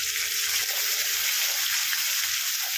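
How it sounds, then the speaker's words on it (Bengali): Fish head frying crisp in hot oil, a steady, dense crackling sizzle that holds at an even level throughout with no voices. "একদম কড়া করে মাছটা ভাজলাম।"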